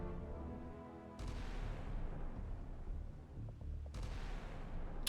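Distant, muffled gunfire from a submarine's guns shooting down incoming missiles in the naval game Sea Power, with two sharp onsets and a rumbling wash under steady ambience.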